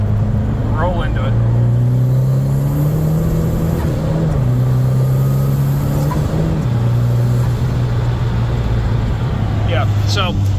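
A Volkswagen Mark 1 Rabbit pickup truck engine pulls hard in third gear, a loud, close droning note that climbs in pitch with brief dips at shifts, a voice talking over it in places.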